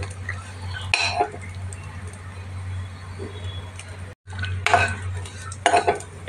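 Almonds being dry-roasted for kheer in a pan, stirred with a spatula that scrapes and clinks against the metal in bursts over a steady low hum, with a brief gap partway through.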